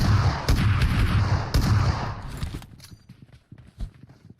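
A few heavy, booming pump-shotgun blasts in PUBG Mobile, loud and close, spaced about a second apart, then fading into quieter scattered thuds.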